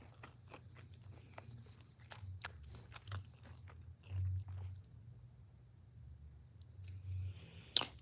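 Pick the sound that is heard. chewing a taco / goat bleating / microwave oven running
chewing a taco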